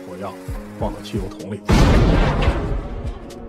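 A homemade cannon built from a drum fires with one loud, sudden boom. The blast hits after a stretch of talk and rumbles on through a long, noisy tail.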